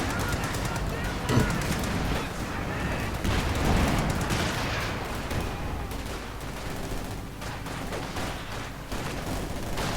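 Continuous battle noise from Company of Heroes 2, with artillery and gunfire rumbling and crackling steadily throughout. A voice talks over it, and a louder thump comes near the start.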